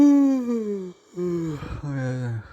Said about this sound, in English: as you guys can tell, I'm yawning a lot.